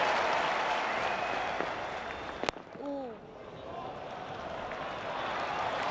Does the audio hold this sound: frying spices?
no